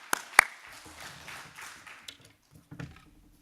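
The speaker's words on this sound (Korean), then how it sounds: "네, 영광의 박수 드리겠습니다" A church congregation at a Wednesday worship service claps after a prayer. A few sharp early claps are followed by a short, loose patter of hand claps that thins out quickly.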